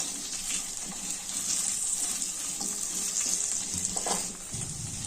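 Potato pieces fry in a little ghee for masala khichdi with a steady, close sizzle and occasional scraping stirs throughout.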